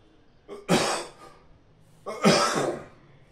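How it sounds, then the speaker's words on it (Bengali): Two harsh, short coughs from a pet a second or so apart, close and fairly quiet, with breathy sounds in between. "কি কাশি হয়েছে তো?"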